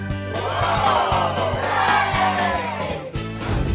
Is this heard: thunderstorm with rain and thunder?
no